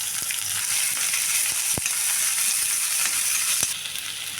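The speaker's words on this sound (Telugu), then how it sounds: "కరివేపాకు వేగిన తర్వాత మనం కట్ చేసుకున్న ఉల్లిపాయలు వేసేసుకోండి" Chopped onions fry with curry leaves and dried red chillies in hot oil, giving a loud, constant close-up sizzle with a few sharp crackles and pops throughout.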